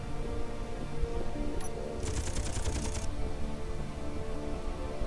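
Turret gunfire in the Space Engineers video game, a quick burst of rapid shots lasting about a second over a steady game background hum.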